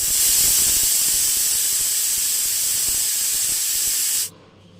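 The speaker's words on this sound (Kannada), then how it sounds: "ಕುಕ್ಕರ್ನ ಕ್ಲೋಸ್ ಮಾಡಿಕೊಂಡು 1 ವಿಷಲ್ ಕೂಗಿಸ್ಕೊಳ್ಳೋಣ" A pressure cooker cooking fenugreek pulao lets off a loud, steady jet of hissing steam for one whistle lasting several seconds, then cuts off abruptly into near silence.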